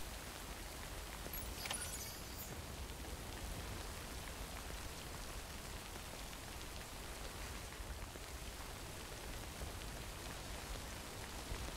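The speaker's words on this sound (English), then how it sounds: "we're right at the beginning of the acid rain" Acid rain in Death Stranding falls as an even, soft hiss that fills the scene from start to finish, steady and fairly faint, with no voices over it.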